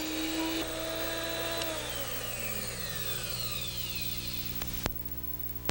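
Drill Doctor sharpener grinds a drill bit with a steady high whine whose pitch slowly drops as the bit is pressed in, followed by a couple of sharp clicks at the end.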